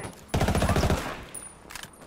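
A rapid automatic gunfire burst in Ghost Recon Wildlands opens after a brief quiet, with a loud, evenly spaced string of shots lasting under a second, then fading into softer scattered shots and echoes.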